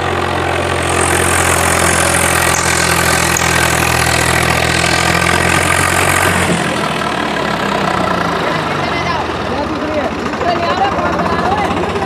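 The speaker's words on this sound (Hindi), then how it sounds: "बिल्कुल दम नहीं भर रहा ट्रैक्टर।" A tractor engine drones loudly and steadily, straining under load during a tractor competition in a field, with a rough, throbbing low rumble that shifts partway through.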